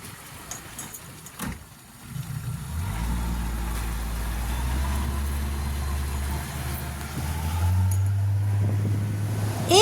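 A speedboat motor on the Patratu dam lake starts up after a quieter opening and settles into a steady, close drone, then rises to a higher pitch toward the end.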